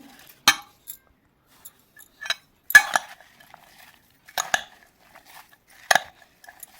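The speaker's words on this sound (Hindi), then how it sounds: "तो चले अब मैं मिक्स करती हूँ इसको अच्छे से।" Spoon scraping and clinking against a bowl while fruit chaat is mixed, sharp separate knocks spaced about a second apart, close and fairly quiet with silence in between.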